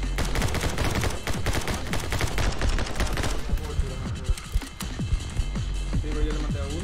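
Gunfire in the My Friend Pedro video game, rapid bursts of loud automatic shots packed together at first, then thinning into scattered single shots, heard over background music.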